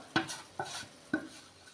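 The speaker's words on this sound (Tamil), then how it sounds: "இப்போ இதை ரெண்டையும் சேர்த்து நல்லா வந்து வதக்கி விட்டுடலாம்" Turmeric and home-ground kuzhambu masala powder being sautéed in a pan for a village-style karunai kizhangu (elephant yam) kara kuzhambu: three sharp spoon scrapes and clinks against the pan at regular intervals over a faint background, no talking.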